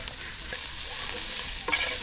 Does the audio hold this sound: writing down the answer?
no